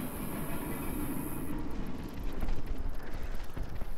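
A train rolls along in the Oblivion Express StarCraft II co-op mission, a steady mechanical rumble with rhythmic clacking that grows slightly louder partway through.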